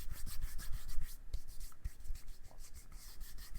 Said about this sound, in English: I'm gonna rub. It seems like there's a little bit of dirt holding it back there.